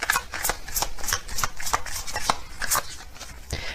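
Tarot-style zodiac cards shuffled and drawn from a deck, a quick run of crisp papery flicks and slaps recurring every half second or so, close and fairly loud, with no voice.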